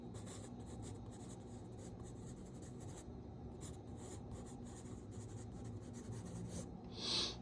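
Faint, steady scratching of a pencil on paper as it sketches a loose, scribbly gesture drawing of a still life, continuous rapid strokes heard close and alone.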